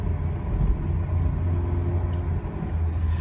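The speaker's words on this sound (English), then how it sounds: "you can hear it here going to VTEC and spin all the way up" A 2006 Honda S2000 engine revs up into VTEC, a sustained low droning rumble with a steady tonal hum underneath, loud and continuous without talk.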